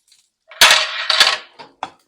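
Dried cranberries tip into a pan of dry-roasted nuts for healthy nut balls with a couple of sharp clattering hits and a scatter of lighter rattles, close and fairly loud.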